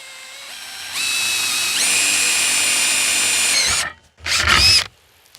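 A power drill bores into a door as part of a home security fix, whining steadily for a few seconds and rising in pitch, then a short second burst after a brief pause, loud and close with no talk.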